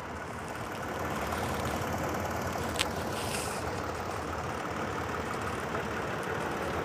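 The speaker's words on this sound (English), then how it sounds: "Engine idles quite happily." A 2016 Toyota Tacoma TRD Off Road pickup engine idles smoothly, with a steady, even rumble that holds close and constant throughout and has no irregular knocks or surges.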